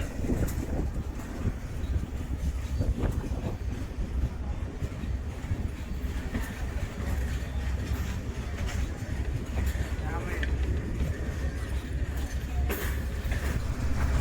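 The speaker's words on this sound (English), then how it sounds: "Our train is pulled by an old EMD G8 locomotive from 1954." A Cuban passenger train hauled by a 1954 EMD G8 diesel locomotive, mixing old coaches, rolls along with a continuous low rumble and faint rail clatter from onboard.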